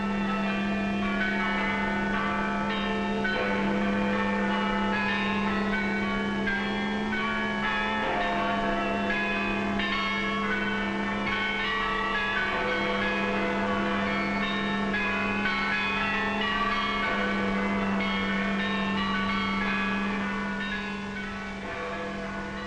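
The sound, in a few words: church bells ringing in celebration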